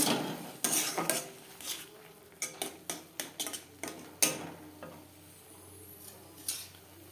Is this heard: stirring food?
yes